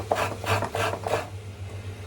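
Coconut is grated finely by hand, producing four quick, close rasping scrapes in a steady rhythm before a brief quieter stretch with low background hum.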